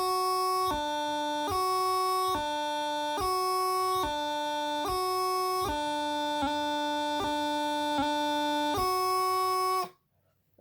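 A bagpipe practice chanter plays a G grace note exercise: a steady reedy tone changes note in an even repeating two-bar pattern with sharp grace-note blips, close and alone, for about ten seconds before stopping.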